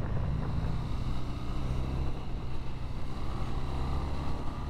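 A 2024 BMW R12 nineT motorcycle ridden in dynamic mode on open roads, its steady engine drone and rumble continuous from start to finish, mixed with strong wind rush across the microphone.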